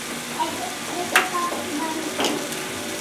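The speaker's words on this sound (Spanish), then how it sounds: "Mientras tanto le podemos ir agregando los ajos para que también vaya dorando" Onion and garlic frying in a pan, a soft steady sizzle with a few sharp clicks of a utensil against the pan, close and moderate in level.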